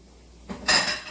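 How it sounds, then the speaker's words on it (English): Four eggs dumped into a bowl, a brief soft knock followed by a sharper clattering splash, close and short, no talking. "so we're going to dump all the eggs in here."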